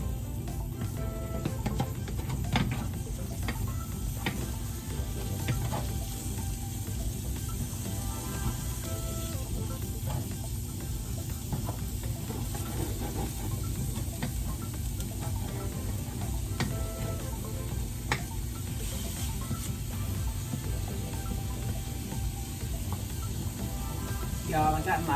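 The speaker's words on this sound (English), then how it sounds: "we're gonna get these all sauteed together" Canned salmon fried rice sizzles in a pan while being stirred and sautéed, a constant close frying hiss with scraping stirs, heard under a person talking.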